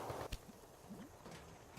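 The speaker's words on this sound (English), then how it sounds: "There's just horses. Horses and carts." A few soft hoof clops of a horse walking in the video game Railway Empire, faint and sparse against quiet background noise.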